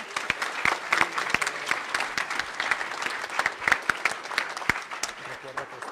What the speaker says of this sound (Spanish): aplausos para el Faro, que bien chingón